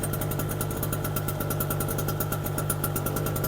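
A cold generator engine idles steadily just after its choke is pushed in, a loud, even mechanical chug with a fast regular pulse running unbroken throughout, with no talk.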